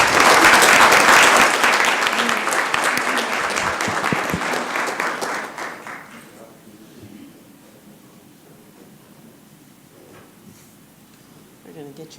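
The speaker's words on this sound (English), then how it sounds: "Let's give him a round of applause, folks." Audience applause fills a city council meeting chamber in Columbus, Georgia, loud and dense for about five seconds before fading to quiet room tone, with voices talking over the clapping.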